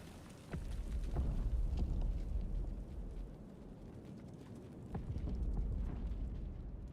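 Rocket launcher explosions in the video game Reanimal: a deep, rumbling boom sets in with a few sharp cracks, eases off, then swells again near the end, fairly faint and without speech.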